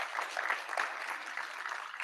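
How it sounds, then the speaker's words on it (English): Brief applause at a bursary awards ceremony, a soft, fairly distant wash of many hands clapping with no speech over it. "So we must give them a round of applause because they're doing a good job."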